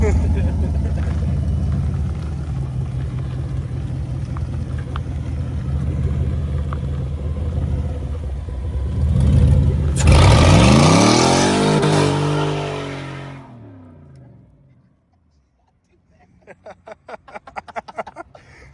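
A four-door Chevette with an automatic transmission drives and accelerates, its engine drone climbing to a loud surge and rushing pass before dropping away into near silence, with people talking over the engine.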